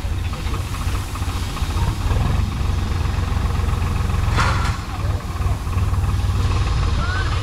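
A tractor engine runs steadily close by while paddy is unloaded, a loud low rumble with a brief hissing burst partway through. Background noise carries on over the engine throughout.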